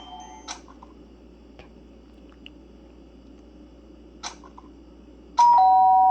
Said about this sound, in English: Ding dong, who's at the door?